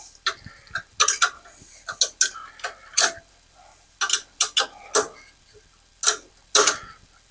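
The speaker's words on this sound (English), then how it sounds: "we're going to need to loosen up the fan belt. So we can do that here at the alternator" A car's alternator bracket is loosened to slacken and remove the fan belt: a string of irregular metallic clicks and ratcheting ticks, close and fairly sharp, in uneven bursts with pauses and no talking.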